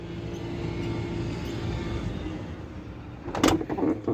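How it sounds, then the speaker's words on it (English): A 2021 Mercedes Sprinter camper van's automatic sliding door runs with a steady motorized whir, then ends in a sharp latching thunk and rattle, close and moderately loud. "Automatic doors."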